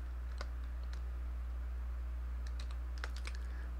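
A few keys are tapped on a computer keyboard in short scattered bursts, soft and close, over a constant low electrical hum.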